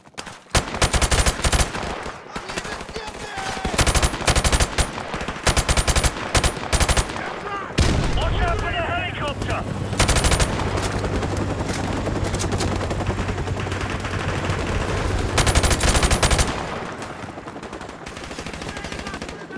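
Sustained gunfire from the game Call of Duty: Modern Warfare Remastered: dense, loud automatic bursts and overlapping shots fill nearly the whole stretch, with a brief lull of rumbling battle noise before the firing resumes.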